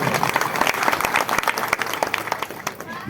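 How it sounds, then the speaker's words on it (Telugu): An audience at an ashram anniversary gathering bursts into loud, sustained applause, dense clapping filling the whole stretch with some crowd murmur beneath it. "ఈ కార్యక్రమాన్ని నిర్వహించిన ప్రతి ఒక్కరికి ఒకసారి గట్టిగా చప్పట్లు కొట్టాలి"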